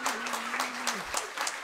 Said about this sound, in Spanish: ese aplauso es una lástima